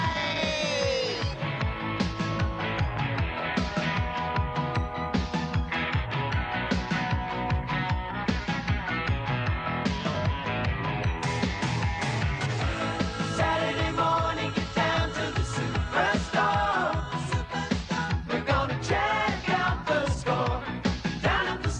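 Saturday Superstore TV show theme tune plays loud and continuous, a busy full-band arrangement with steady driving rhythm throughout.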